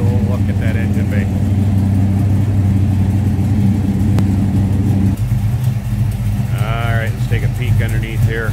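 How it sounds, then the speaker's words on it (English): A deep, steady 454 big-block V8 in a 1982 Chevrolet C10 Stepside pickup rumbles at idle close by throughout, with people talking briefly over it near the start and end. "Got it off the high idle, so you can hear that rumble. 454 big block underneath there."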